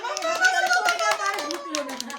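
Hand claps at a child's first birthday party, a string of quick, uneven claps running under a chanting adult voice, fairly close and steady throughout.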